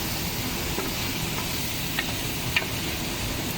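Pork fat sizzling in a pan while being sautéed for pakbet, a continuous close hiss of frying with faint ticks and stirring scrapes, no talk.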